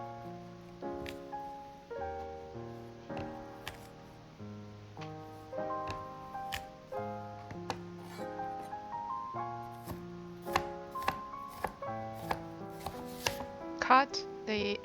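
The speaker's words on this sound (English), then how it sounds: "mince the garlic," Garlic is minced with a knife on a cutting board: a long run of close, steady chopping knocks that quicken toward the end, with no voices.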